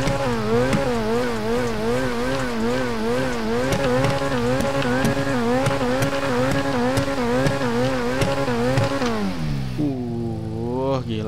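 A car engine in the GTA 5 video game revs hard in a continuous warbling drone with rhythmic pitch swings, then drops and settles near the end, loud and up close.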